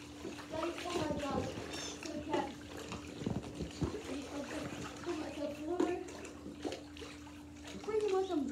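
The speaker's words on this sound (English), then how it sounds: "I just fell in the freaking water." A person falls into water with splashing and sloshing, followed by continued dribbling and agitated water movement, mixed with excited shouting and talk from nearby voices.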